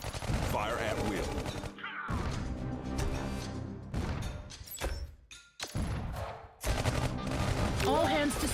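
Troops firing guns in the Iron Marines Invasion game, with repeated bursts of shots and impacts broken by short gaps, loud and layered with game music and voiced commands.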